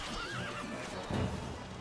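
A horse whinnies in a rising, wavering neigh, then snorts, in the video game Stronghold: Crusader Extreme, heard over a dense layer of background noise and hoofbeats.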